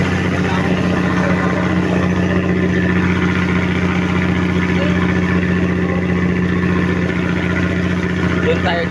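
A ferry boat engine runs on the crossing from Batan port to Kalibo, giving a steady, loud, unbroken low drone with a constant hum throughout.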